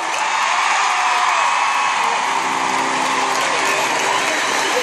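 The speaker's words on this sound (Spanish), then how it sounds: "Fuerte el aplauso para mi bebé" A large audience at the Vendimia 2015 festival concert claps and cheers in a dense, continuous roar that holds at full strength, with a few whoops and shouts rising out of the crowd.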